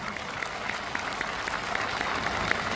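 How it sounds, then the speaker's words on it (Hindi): A crowd applauds steadily at an ex-servicemen's rally in Uttarakhand, with dense, even clapping that holds at a constant level throughout. "इनके लिए जोर से ताली हो जाए।"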